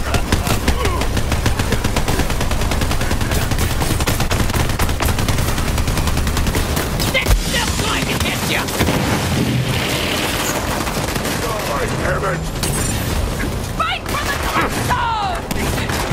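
Sustained automatic gunfire and bursts in the shooter Borderlands 3 during a fight with the boss Killowatt, dense and continuous with booms and impacts, a voice talking over parts of it.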